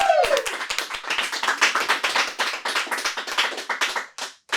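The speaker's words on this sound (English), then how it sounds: "everybody give it up for Paul Baez, everybody." Studio audience clapping for a comedian on a late-night comedy show, a dense, steady wave of applause lasting several seconds before thinning out and briefly dropping near the end.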